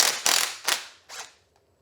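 Ratchet wrench loosening the fork bolts on a Honda CRF230F dirt bike, three quick close clicking bursts with short pauses between, then quiet.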